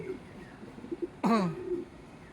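Racing pigeons arrive at the loft after a derby race, with one clear throaty coo standing out over soft background murmur and faint flutters.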